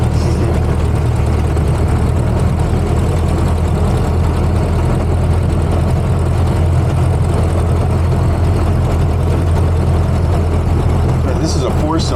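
A 1930 Ford Model A Tudor sedan's four-cylinder engine drones steadily from inside the moving car, a constant loud low rumble with voices talking over it.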